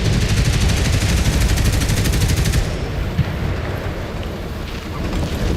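Marder tank gun in World of Tanks, a dense loud barrage of overlapping gunfire and rumbling blasts that thins out midway into a steadier roar.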